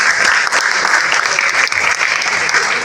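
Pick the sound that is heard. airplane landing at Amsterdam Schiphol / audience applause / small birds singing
audience applause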